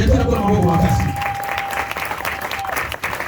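Church congregation applauding loudly in worship, a dense wash of clapping and crowd noise filling the room, with a sustained tone and voices mixed in, the applause thinning toward the end.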